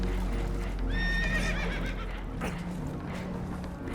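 Spooked horses in Red Dead Redemption 2, aboard a damaged boat taking on water near rocks, give a loud whinnying neigh with a shaky falling pitch. Steady rushing water and engine-like rumble continue underneath, and fainter horse noises follow.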